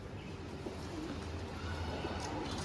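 White pigeons coo softly in low, rolling calls that repeat over a steady background hum, fairly faint and close.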